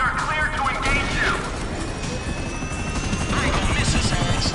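Police air-unit helicopter in GTA V, a steady loud rotor drone filling the whole stretch, with mechanical clatter and bursts that could be gunfire mixed in, no speech.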